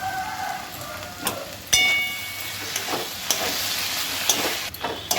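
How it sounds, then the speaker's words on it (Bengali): Fried potatoes are stirred with poppy seed and green chilli paste in a pan, a loud hissing sizzle with sharp scraping and knocking of the spatula at irregular intervals. "ভালো করে পোস্তটা মিশিয়ে নিচ্ছি।"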